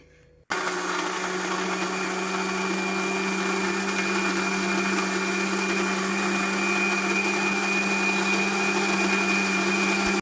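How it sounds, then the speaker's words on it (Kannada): A kitchen mixer grinder runs continuously, grinding coriander leaves with a little water. Its motor gives a loud, steady whine that starts abruptly and holds with no pauses. "ಸ್ವಲ್ಪ ನೀರು ಹಾಕಿ ಗ್ರೈಂಡ್ ಮಾಡ್ಕೊತೀನಿ"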